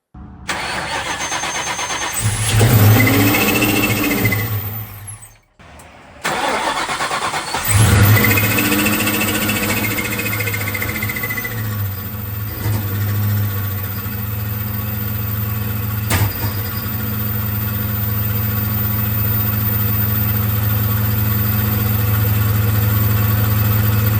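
A procharged 1996 Mustang GT: the starter cranks and the engine catches twice, with a brief cutout between attempts, then settles into a loud, steady idle with a deep low drone that continues to the end.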